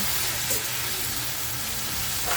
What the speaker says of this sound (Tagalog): Haluin natin maigi.